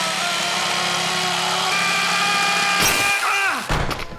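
An electric chainsaw in a film scene runs with a steady buzzing whine that shifts pitch partway through. It ends in abrupt harsh bursts as the cutting stops.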